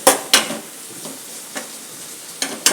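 Ginger garlic paste with coriander powder, turmeric and green chillies frying in a pan gives a soft sizzle, broken by a few sharp scraping stirs of a spoon against the metal.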